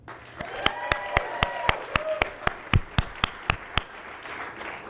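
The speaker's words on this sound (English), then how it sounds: "we always like to get things started with a round of applause" Studio guests at the Nasdaq opening bell clap in a brief round, with a steady run of sharp, evenly spaced claps that stand out over a thin crowd clatter before stopping.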